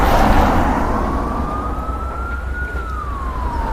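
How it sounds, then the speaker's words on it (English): Police car siren wailing in a slow rising and falling sweep, loud and close over a steady traffic and engine rumble, with no voices. "Turn on the siren."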